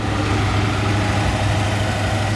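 A 1982 Jeep J-10 pickup with its original 360 V-8 idles steadily, a loud, even low rumble held throughout without any other sounds.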